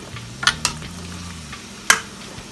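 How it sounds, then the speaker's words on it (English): Beef fat cubes dropped into a cooking pot to melt, a low steady sizzle with a few sharp clinks and taps against the pot, close by and without speech. "It's just fat from beef that I melted. So I'm adding 5 cubes so that I can add fat"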